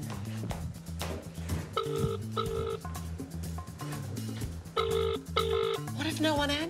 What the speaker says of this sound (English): So we're ringing the number now.